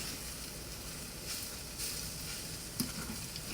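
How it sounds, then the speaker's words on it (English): Sausage browning in a pan while yuca hash is mashed and stirred in, a steady close sizzle and crackle with a brief scraping knock near the end and no talking. "as the sausage is browning, I'm just mashing up the yuca and stirring it together"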